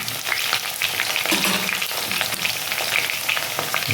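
Steady, dense sizzling of pointed gourd frying in hot oil, with occasional scraping stirs of a spatula, close and continuous.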